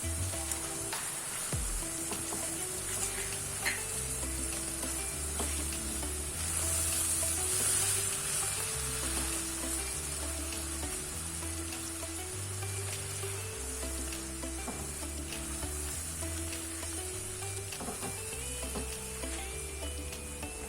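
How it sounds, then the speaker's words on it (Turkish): Tomato and pepper paste sizzles in a frying pan for Kayseri yağlaması, a continuous soft hiss heard up close with a low background hum beneath it. "domatesi ve biber salçamı ekliyorum"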